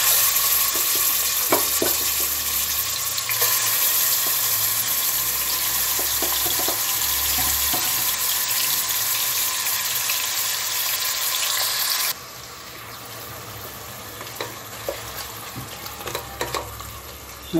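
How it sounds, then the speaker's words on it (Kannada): Mutton hits hot oil in a pressure cooker, a steady close sizzle and crackle with scattered stirring clicks, settling slightly quieter partway through. "ಮಟನ್ ಸೇರಿಸ್ತಾ ಇದ್ದೀನಿ।"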